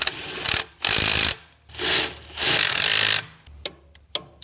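A ratchet wrench tightens brake caliper bolts on a boat trailer converted from drum to disc brakes, with loud, close bursts of rapid clicking separated by short pauses, then a few single clicks.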